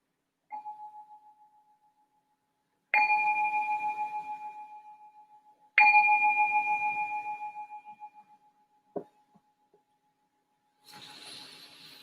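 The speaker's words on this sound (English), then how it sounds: "We're going to ring the bell to signal the start of meditation." A meditation bell rings three times with long, clear, sustained tones that slowly fade, then a brief knock follows in an otherwise quiet room; no talking over it.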